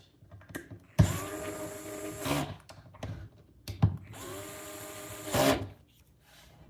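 A cordless driver set to low torque drives screws into a disc golf cooler cart, giving two short, close motor whines of a second or so each, separated by soft handling clicks and knocks.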